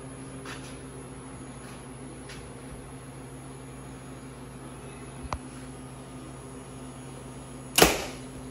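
A Walmart Spitfire broadhead arrow hits ballistics gel with one sharp, loud slap near the end, preceded by a faint tick and quiet background hum.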